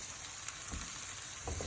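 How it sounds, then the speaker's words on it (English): Onions sizzle and fry in a pan while being stirred for a Bengali-style chicken curry, a steady close hiss with a few soft scraping stirs, quiet and without talk. "now we're going to be stirring the onions"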